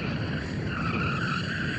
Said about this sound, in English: let's warm up the tyres first though. I'm gonna put this into rear wheel drive mode to do that.